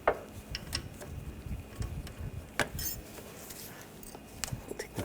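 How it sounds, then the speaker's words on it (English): A socket ratchet loosens the accessory drive belt tensioner on a 2013–2022 Buick Encore 1.4L L4: faint mechanical clicks and a few sharper metallic ticks in a quiet engine bay, with no talking. "I'm going to loosen up the tension on the tensioner."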